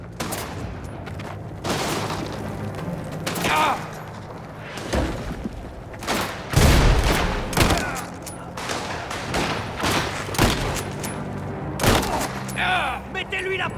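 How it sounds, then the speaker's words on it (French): A grenade blast and gunfire in Mafia: The Old Country: a heavy boom amid repeated sharp shots and volleys, with someone talking over the combat. "Je lance une grenade."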